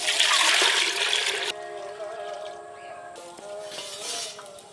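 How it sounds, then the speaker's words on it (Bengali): Water gushes into a clay cooking pot for rice in a loud burst lasting about a second and a half. It then settles into a quieter ringing trickle, with no talking. "জল তো একটু বেশিই লাগবে ভাত হতে, দেশি চাল অনেকক্ষণ ফুটে, একটু বেশি করে জল দেব"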